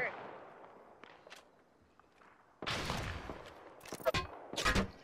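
Bursts of gunfire crack in a shooter video game, starting with a few faint isolated shots and followed after a quiet stretch by louder, closer rapid volleys with voices mixed in.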